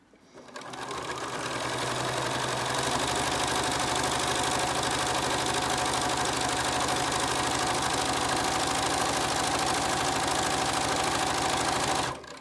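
A Bernina sewing machine with free-motion embroidery foot #24 stitching petals on sinamay runs in a steady, fast, continuous whir for nearly the whole span, close and loud, with no talking.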